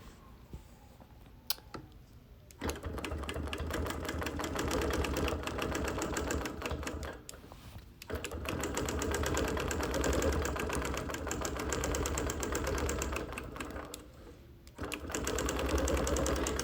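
A sewing machine runs in bursts during free motion quilting on a sampler quilt, its rapid needle chatter steady and close, broken by short pauses between runs.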